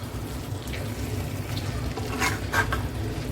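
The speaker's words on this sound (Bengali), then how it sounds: "এবার আমি ওলট পালট করে কিছুক্ষণ আবার ঢেকে কষিয়ে নেব।" Boal fish with coated spices stirring and sizzling softly in a pan, with a low steady fry and a few brief scraping stirs near the end, no voices.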